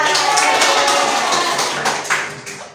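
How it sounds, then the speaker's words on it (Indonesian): Students in a classroom give a round of applause for a classmate, steady, dense clapping close by that carries on for a few seconds, with faint voices underneath. "tepuk tangan untuk Mbak Ira"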